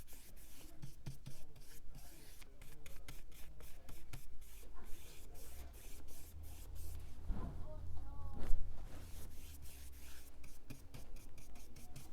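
A brush paints a surface with long strokes, giving a quiet, repeated rubbing swish. A brief low thud and some faint background talk come in partway through.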